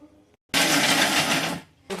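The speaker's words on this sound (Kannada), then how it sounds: "ಸ್ವಲ್ಪ ಒಣ ಕೊಬ್ಬರಿನ ಮಿಕ್ಸಿ ಹಾಕ್ತಾಯಿದ್ದೀನಿ" A kitchen mixer grinder whirs loudly while grinding dry coconut, a single burst of about one second that starts abruptly and cuts off, followed by the motor restarting briefly.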